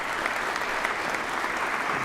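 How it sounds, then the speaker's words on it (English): Applause for a retiring president at a legislative session, a steady dense clapping from a crowd, continuous and fairly distant. "Let's give him a big round of applause."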